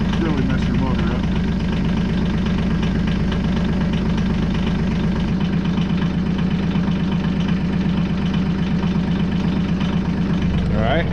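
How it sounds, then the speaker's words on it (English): A diesel tractor engine idles steadily while warming up in cold weather, a close, loud, continuous low rumble with a faint knocking beat that keeps the same pitch throughout. "so tractor's warming up"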